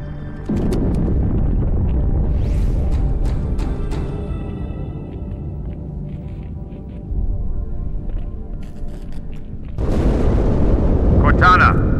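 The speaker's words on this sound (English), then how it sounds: "That explosion came from inside the Athens." Explosion inside the UNSC Athens, a warship in the video game Halo 2, heard as a loud, sustained rumbling blast with a second heavy burst near the end. Game ambience and music run underneath.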